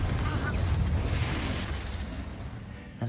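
A Confringo blasting spell detonates in Hogwarts Legacy, a loud, deep rumbling explosion that fills the whole stretch and slowly fades, with a fresh burst at the very end.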